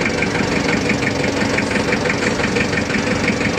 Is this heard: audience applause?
no